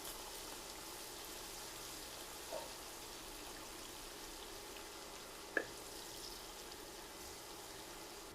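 Chopped onions with ginger frying in hot oil toward crisp beresta, a steady soft sizzle and crackle throughout with a couple of small pops, no voices.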